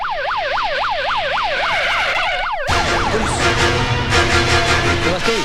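A fire brigade siren wails loudly in rapid rising and falling sweeps, then gives way to a denser blare of siren and engine noise in a film street scene.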